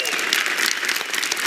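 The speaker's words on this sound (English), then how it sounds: "let's how about give them a round of applause" Audience applause at the 2019 Imagine Cup World Championship during Microsoft Build, a dense steady clatter of many hands clapping close and loud, filling the whole short stretch without pause.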